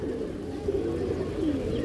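A restless female pigeon coos close by, a soft low warbling call that rises and falls over a faint steady background.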